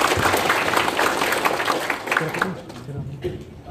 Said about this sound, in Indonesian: Mohon aplaus sekali lagi untuk beliau